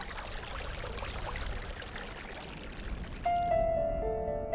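The Virgin River runs through a desert canyon in Zion National Park as a soft, steady rush of flowing water. Near the end, a music bed rises over it.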